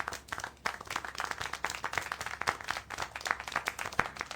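Sharp, fairly rapid handclaps from a character in the video game Syberia: The World Before, a dense string of claps over about four seconds, close and alone.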